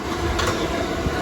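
Class 375 electric train passing through Thanet Parkway station, a steady close rumble of wheels and traction with faint rail hiss throughout.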